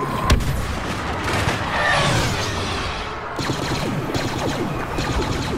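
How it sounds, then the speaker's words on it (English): A thermal imploder grenade detonates in the Star Wars Battlefront beta, a heavy close boom followed by rumbling blast debris and a continuous barrage of distant battlefield fire and explosions. "Thermal imploder. Grenade out!"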